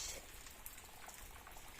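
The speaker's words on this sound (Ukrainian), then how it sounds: "Але дощик не дає, бачите? Знову дощ" Steady rain falling outdoors, a dense, even patter with no voices throughout.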